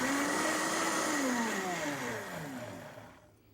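A blender pulses cashew cheese briefly, its motor whirring loudly, pitch sliding down as it winds off, then cutting out near the end.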